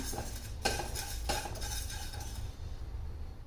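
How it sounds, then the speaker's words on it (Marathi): Dry urad dal being stirred in a heated wok on a gas stove, a steady scraping rustle with a few sharper metallic clinks of the spoon against the pan, close by and without talk. "गॅसवर कढई तापायला ठेवायची त्यात टाकायची ही उडदाची डाळ"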